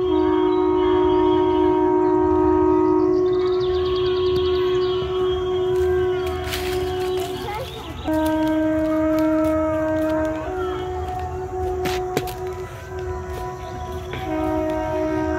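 A train engine idles at a nearby station in a Jharkhand village, a steady droning hum that drops in pitch around the middle and again near the end, fairly distant, with no talking.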